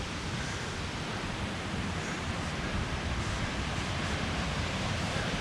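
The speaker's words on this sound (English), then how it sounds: "Amazing waterfall." Steady, dense roar of falling water at the Cascada de los Caballeros waterfall in Suaita, Santander, Colombia, continuous broadband rush with no breaks and no voices.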